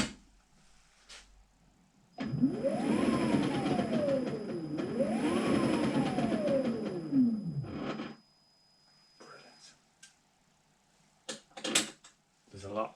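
An Audi 80 EV conversion's electric motor, coupled to the gearbox, whines up and down twice in loud, close sweeps with mechanical clacking underneath, followed by scattered clicks and taps.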